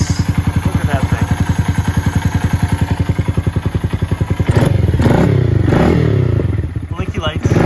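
A Honda Grom 125cc motorcycle fitted with a new Kitaco oil cooler idles with a loud, steady single-cylinder thump close by, then rough clattering and a few revs, with a voice talking over it.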